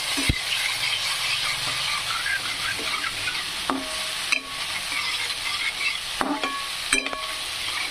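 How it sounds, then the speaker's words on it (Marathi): Turmeric stirred and fried in a pan gives a steady, close sizzle throughout, with sharper scrapes and clinks from the stirring spoon now and then. "हळदीला पण थोडंसं भाजू द्यायचं, असं फ्राय होऊ द्यायचं."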